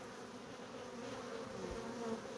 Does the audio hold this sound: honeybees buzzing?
yes